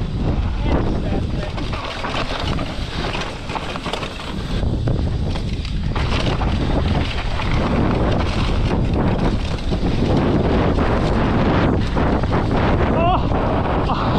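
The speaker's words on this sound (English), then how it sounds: "that's too windy, that is" Strong wind buffets the microphone nonstop on a Spanish mountain bike trail, a heavy rumbling roar with gusty surges that stays loud for the whole stretch.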